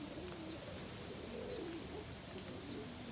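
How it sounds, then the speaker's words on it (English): Homing pigeons in a cleaned loft give soft, low cooing calls, a few faint repeated coos over a steady background hiss. "It's a nice bird, young bird from last year"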